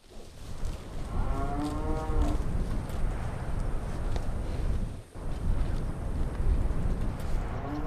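A Beefmaster cow gives one long, deep moo with a rising and falling tone at moderate distance on a humid tropical cattle farm, set against a constant rushing outdoor background with a brief dip midway.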